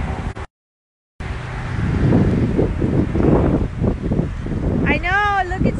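After a brief dropout, strong wind rumbles and thumps against the microphone outdoors in a Florida parking lot, a loud gusty roar with a voice briefly audible near the end.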